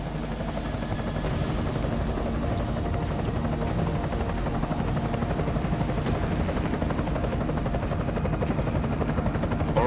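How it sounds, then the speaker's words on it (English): Helicopter in the video game Deus Ex, a steady loud rotor chop with dense low thumping throughout, continuous and close with no speech over it. "Enemy helo sighted."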